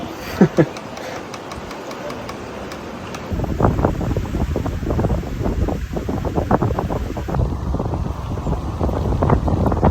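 Strong wind buffets the microphone with a steady roar and gusty rumble, growing heavier partway through, in Tahiti.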